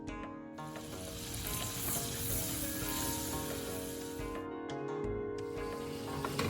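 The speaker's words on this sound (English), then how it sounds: "So melt butter in a saucepan. To this add 2 tablespoons flour and mix well." Butter and flour cook in a saucepan for a bechamel sauce, giving a steady, close sizzle and frying hiss with faint stirring scrapes throughout.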